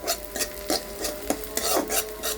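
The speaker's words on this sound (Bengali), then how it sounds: "তেল দিয়ে, পাঁচফোড়ন দিয়ে, পেঁয়াজ দিয়ে সব ভাজা ভাজা করতেছি।" Onion and panch phoron fry in oil while a utensil scrapes and stirs the pan in rhythmic rasping strokes over a soft sizzle, close up with no talking.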